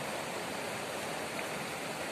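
The river Vaishnav flows with a steady, broadband rush of water, close and constant, and no voices are heard over it.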